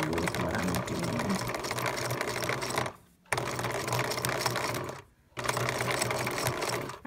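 A sewing machine running fast with a large stitch width through pannier fabric, a loud close mechanical whir in three bursts separated by two short pauses.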